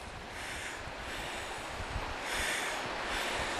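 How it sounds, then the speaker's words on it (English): A small brook trickles down a hillside on a country walk near Edale and Kinder Scout in the Peak District, heard as a steady broadband water hiss with some wind, continuous and fairly close. "look to our left and see the little brook trickling down"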